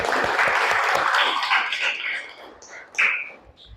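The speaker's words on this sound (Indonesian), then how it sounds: "Kasih aplaus." Classroom students clap together in a dense burst of applause that fades over a few seconds, with a few scattered voices near the end.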